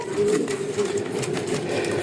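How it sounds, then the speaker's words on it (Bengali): A desi pigeon cooing in repeated throaty bubbling calls, close and fairly loud, continuing through the whole stretch with no talk. "একদম বাকবাকুম করে ডাকে"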